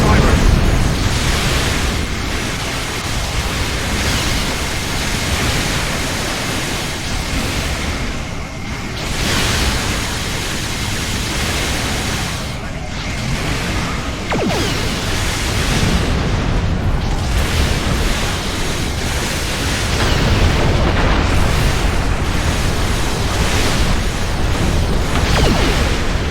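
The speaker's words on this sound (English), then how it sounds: "All ships fire at will." Starship weapons fire and explosions rumble in Star Trek Online as Federation and Jem'Hadar vessels battle Krenim ships, a dense, loud, continuous barrage of booms and blasts with voices speaking over it.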